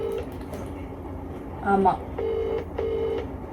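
An old, cheap mobile phone on speakerphone dials a call: a short burst of keypad beeps, then two longer steady dialing tones over a faint background murmur.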